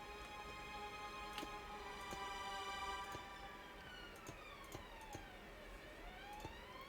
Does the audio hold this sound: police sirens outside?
yes